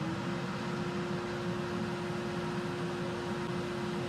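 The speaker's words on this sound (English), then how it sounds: "Now let's check the noise difference between the Harbor Freight and the Rikon." A Rikon 60-101 dust collector running, a loud steady motor whine and airflow roar with a constant tonal hum and no other sounds or talk.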